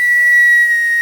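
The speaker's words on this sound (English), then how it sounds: "you can make this super loud whistle that's loud enough to get other people's attention" A homemade survival whistle made from a soda can, blown hard, gives one piercing, steady high-pitched tone lasting about a second, loud and close with no other sounds.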